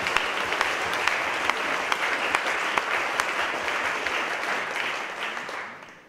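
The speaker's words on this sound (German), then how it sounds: "Ein Applaus für Sie bitte." Steady audience applause at the German nationwide launch event of the International Weeks Against Racism in Heidelberg, an even wash of many hands with a few sharper near claps, fading out at the end.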